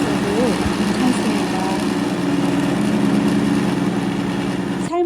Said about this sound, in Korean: 삶은 콩을 믹서기에 넣고 짧게 갈아주면 되는데요